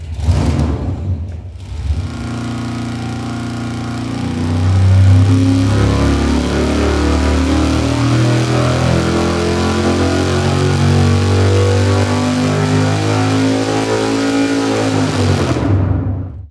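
A race engine on a dyno fires up hot and revs hard at full power, a loud sustained roar with climbing harmonic tones that holds for over ten seconds before cutting off abruptly.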